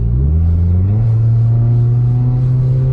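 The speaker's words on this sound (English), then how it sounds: "It sounds like the muffler's dead." A car with a dead muffler roars loud and close, a deep rough rally-car-like rumble that climbs in pitch as it accelerates, with no talking.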